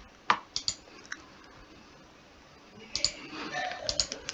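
Several sharp mouse clicks while selecting points in 3D modeling software, a few spaced taps early on and another small cluster near the end, close and fairly quiet with soft room noise between.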